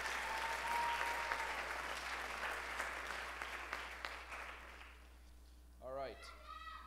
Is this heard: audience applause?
yes